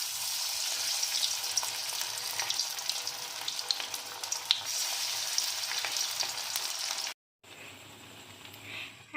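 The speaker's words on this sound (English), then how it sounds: "Put the vada to the oil." Poha vada frying in hot oil in a kadai over a medium flame, a steady close crackling sizzle that runs on, breaks off briefly near the end, then resumes more softly.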